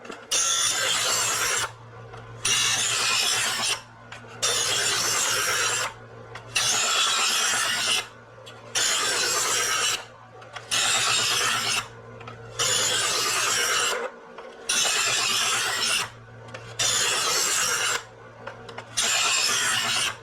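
Knife drawn across a sharpener in long rasping strokes, about eight evenly paced passes with short pauses between, close and loud, with no voices.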